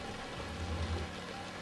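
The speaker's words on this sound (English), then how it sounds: "Hopefully the rain will not last that long" Steady rain pours down in the truck-driving game Euro Truck Simulator 2, a dense, even hiss with a low rumble underneath, continuous and fairly quiet throughout, with no voices.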